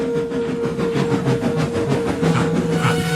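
A train rumbles steadily close by, with a sustained whistle-like tone and rhythmic clatter of wheels on track, no voices.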